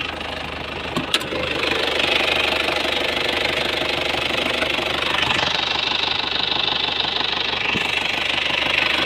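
An Isuzu TFR pickup idles with a steady, continuous diesel rumble and light rattling close by, even throughout with no revving.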